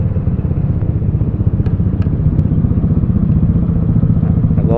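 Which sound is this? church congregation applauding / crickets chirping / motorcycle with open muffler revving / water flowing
motorcycle with open muffler revving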